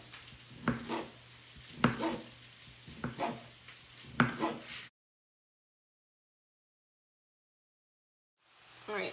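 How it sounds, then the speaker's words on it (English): Cabbage and sausage cooking in a pan get stirred in four rhythmic scraping bursts over a low sizzle, followed by several seconds of silence before the sizzle returns faintly. "I'm gonna give our cabbage a stir"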